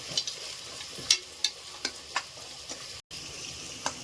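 Peas and seeds frying in a little oil for tomato bath, a steady close sizzle broken by a handful of sharp stirring scrapes and clicks from a spoon in the pan, with no one talking.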